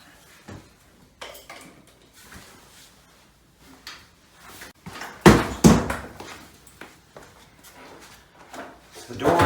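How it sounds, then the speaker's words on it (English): Plastic faceplate and door parts of a Samsung front-load washer being fitted back on, giving scattered knocks, clicks and rattling handling bumps with a louder cluster midway, amid light movement noise. "Now we get to put the faceplate back on."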